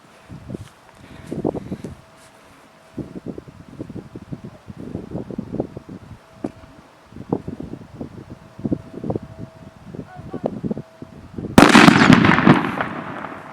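A string of sharp crackling pops from a firecracker with a damaged casing sputters for several seconds, ending in one loud burst that fades out, heard from a short distance.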